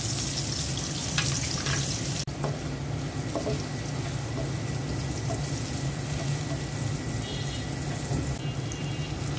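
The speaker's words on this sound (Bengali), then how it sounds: "মাছ ভাজা তেলের মধ্যে পেঁয়াজ দিয়ে দিচ্ছি" Onions fry in oil left over from frying fish, giving a continuous, dense sizzle close by, with a brief clatter near the start and no speech.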